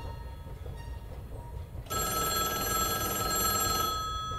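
A telephone ringtone starts partway through and rings on steadily, loud and bright, over a low background rumble inside an airport.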